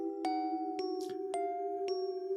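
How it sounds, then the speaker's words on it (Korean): A two-tone doorbell chimes as a sound effect in a narrated horror story, with sharp repeated ding-dong strikes over a steady sustained tone, clear and close with no voices. "초인종 소리가 들려왔습니다."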